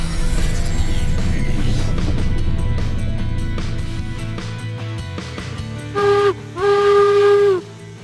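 In Railroads Online, a rumbling steam locomotive chugs and hisses, then a loud two-part steam whistle blows, a short blast followed by a longer sustained tone.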